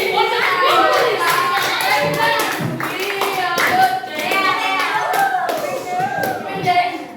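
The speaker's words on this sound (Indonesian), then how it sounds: "beri tepuk tangan untuk Muli" Students at an Islamic junior high school (MTs Al-Yusra, Gorontalo) clap for a classmate named Muli, a patter of hands mixed with lively children's voices talking over it throughout.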